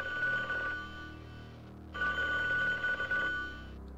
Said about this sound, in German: Dann gehen wir mal zum Telefon.